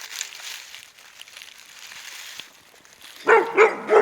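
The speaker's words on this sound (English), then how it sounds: "My dog's barking." A dog barks a few times near the end after a quieter stretch of soft rustling and background noise, outdoors while hunting morel mushrooms.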